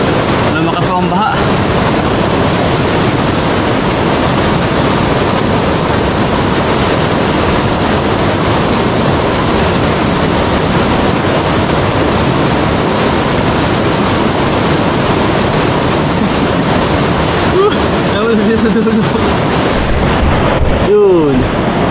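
Large waves surge with strong, churning water in a loud, continuous rush mixed with heavy wind buffeting on the microphone, close and unbroken for over twenty seconds, with occasional voices faintly under the roar.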